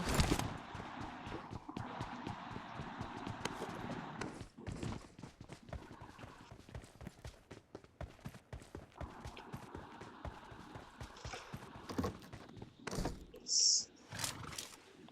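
Horse hooves clip-clop in a video game, a steady run of hollow knocking steps that carries throughout alongside game effects and a voice talking over it.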